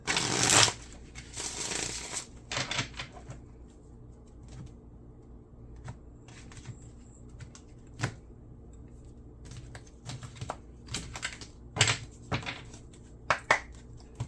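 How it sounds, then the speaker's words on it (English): Repeated riffling and shuffling of a tarot card deck, close by, in several bursts with soft taps and shuffles between them, no talking. "Spirit's also told me to use this deck as well, so let me get a couple shuffles"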